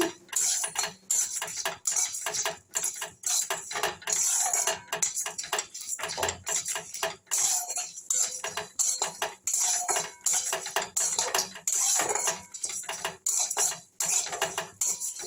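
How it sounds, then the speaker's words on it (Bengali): Metal scrapes and taps against a dry wok while spices are stirred, in a quick, steady rhythm, clattering continuously at close range without any talking. "এটাকে আমি শুকনো কড়াই একটু নেড়ে নেব"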